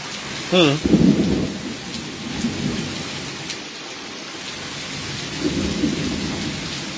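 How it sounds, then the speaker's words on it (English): A thunderstorm brings steady rain hissing on surfaces and low rolls of thunder rumbling throughout. The sound is close and loud, with a brief tonal squeal near the start. "while it's thundering and lightning and stuff like that"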